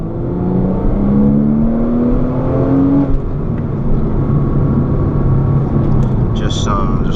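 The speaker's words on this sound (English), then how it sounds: "it's cool to like just drive fast with a goal in mind" A car drives fast along a road, its engine droning loud and close with rising and shifting pitch as it accelerates through gears.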